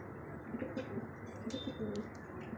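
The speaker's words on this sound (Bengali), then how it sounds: "দারুণ দেখতে একজোড়া কবুতর শৌখিন কবুতর দেখছেন" A pair of fancy pigeons, large bulky birds, coo in low soft repeated phrases close by, with a few brief higher chirps from other birds in the background.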